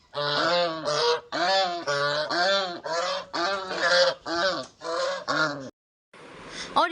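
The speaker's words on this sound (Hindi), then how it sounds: "और यहाँ पर डक्स ने भी शोर मचाया हुआ था कि इनको इनकी डाइट चाहिए" Ducks quack loudly and insistently for food, a close run of harsh, honking calls in quick bursts with a short silence near the end.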